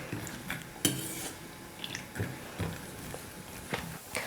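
Cashews roast in ghee in a pan for rava laddu while a spatula stirs them, producing soft recurring scrapes and knocks against the metal over a faint background hiss.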